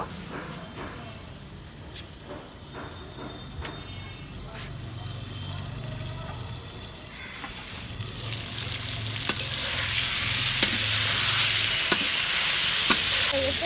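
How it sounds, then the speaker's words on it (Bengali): Pointed gourd (potol bhaji) fries in a pan and gets stirred, with soft sizzling and scraping that grows louder and brighter partway through, sharp spatula clicks near the end, and talk in the background. "আর এখন আমি একটু পটল ভাজিটা নেড়ে দিব।"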